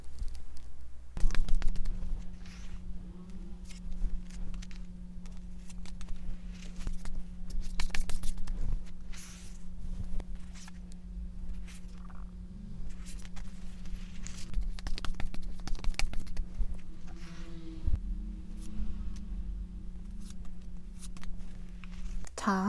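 Tarot cards being shuffled by hand, a continuous soft riffling and patter up close with a steady low hum beneath and occasional taps.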